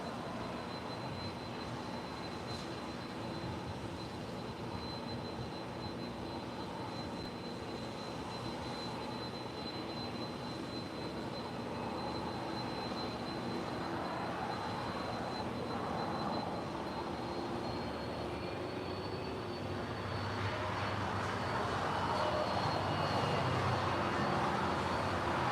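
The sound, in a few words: Qantas Airbus A330 taxiing at LAX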